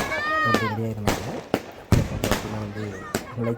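Fireworks at a church festival for the Infant Jesus shrine in Kodaikanal burst in a quick series of sharp, loud bangs, about half a dozen in a few seconds, while people talk nearby.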